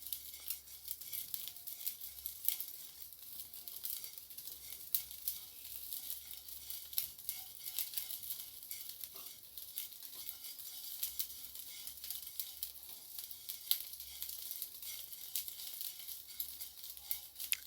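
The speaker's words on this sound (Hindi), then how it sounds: "ये देख सकते हैं साबूदाना फ्राई होना स्टार्ट हो गया" Sabudana tapioca pearls fry in a pan, giving a faint, continuous fine sizzle with soft crackles and pops, quiet and close, with no talk.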